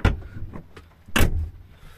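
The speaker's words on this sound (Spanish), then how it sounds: "Vamos a subirnos, cerremos la puerta." Car door of a Bajaj Qute quadricycle being shut, a few light knocks and rustles followed by one solid slam midway, close by.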